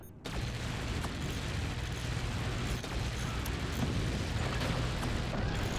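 Heavy energy-weapon fire from a fire beam and plasma cannon in the strategy game Forts, a dense continuous roar with crackling bursts filling the whole stretch loudly.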